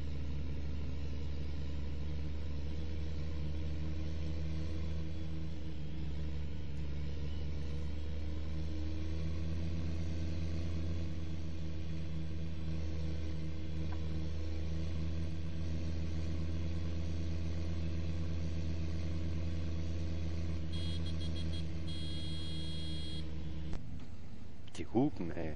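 A farm vehicle engine idles steadily in the video game Farming Simulator 2015, a constant low droning hum that runs throughout before cutting off near the end, with a brief electronic beeping.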